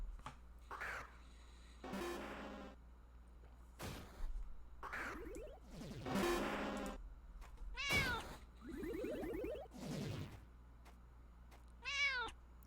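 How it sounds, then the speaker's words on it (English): Cute cat meows from a white kitty particle effect in the PokeMMO game, several short bright mews with upward pitch sweeps repeating every second or two over a low steady hum, clear and close. "So there's that little cute meow from the white kitty particle effect"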